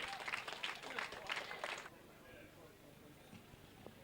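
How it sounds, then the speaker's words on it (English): Crowd clapping at a grasstrack racing prize-giving, a faint burst of scattered applause for about two seconds that fades out, followed by quieter background with talk. "Give her a round of applause"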